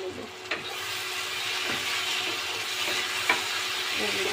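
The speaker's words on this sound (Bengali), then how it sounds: "এখন আমি ঢাকনাটা খুলে কাঁচা কলাটা ভালোভাবে নেড়ে নেব।" Raw banana pieces being stirred while frying in a pan, a steady close sizzle with a few scraping knocks of the spoon against the pan.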